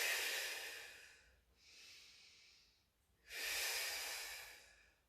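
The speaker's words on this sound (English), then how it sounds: "Little inhale here." Breaths during a pilates exercise: a long airy breath, a softer quieter one, then another strong breath, all close and clear with no talking.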